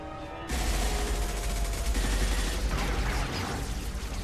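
Heavy gunfire in Mass Effect 2 erupts abruptly after a quiet moment: dense, rapid automatic bursts and booming shots merge into a loud, continuous barrage that tapers slightly toward the end.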